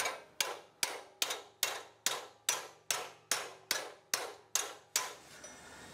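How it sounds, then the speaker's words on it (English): A heavy hammer beats a steel pedal car inner guard flat: eleven sharp, ringing metallic blows at an even pace, close and loud, each decaying before the next. "just with a good heavy hammer, working this until it's reasonably flat"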